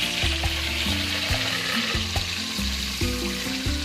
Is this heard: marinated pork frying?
yes